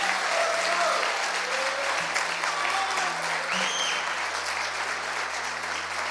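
A church congregation claps steadily at a worship service, a continuous wash of applause that fills the room throughout, with a low hum running beneath.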